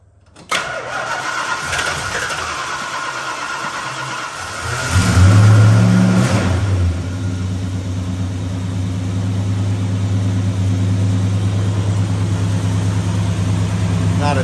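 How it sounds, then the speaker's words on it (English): A Dodge Super Bee muscle car's engine cranks on a cold start and fires into a loud, rumbling start, briefly revving before settling into a deep, steady idle close by with no ticking. "we're gonna perform a cold start"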